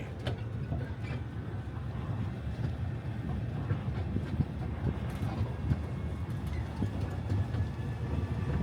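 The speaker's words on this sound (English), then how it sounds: "We are riding a lot of trains today" A low, steady rumble of a train ride inside the Jelly Belly factory in Fairfield, California, rolling along the rails, with faint rattles and clanks throughout and no talking.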